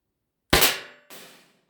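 An HDX .68 caliber marker fires steel 3D slugs in two sharp, close reports, the first loud and ringing, the second softer, with brief silence around them.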